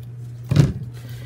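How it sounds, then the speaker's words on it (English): A single short snip of scissors trimming washi tape on a planner page, one close crisp cut over a low steady hum. "I kind of need to peel this sticker up or trim that washi tape back some"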